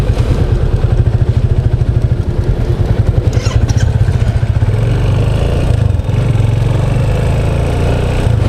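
A motorcycle riding along the road after its under-inflated tyre was pumped up, its engine running steadily and close with a continuous throbbing drone and wind rush throughout, no talk.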